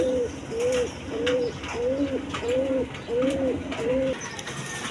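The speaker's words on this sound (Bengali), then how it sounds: "এখানে এক পেয়ার হাই ফেলিং কবুতর আছে, নটটা হলে কালদম কবুতর" A pair of Kaldom pigeons, high-flying pigeons, coo close by in a regular series of about seven soft rounded calls, evenly spaced, with faint background noise.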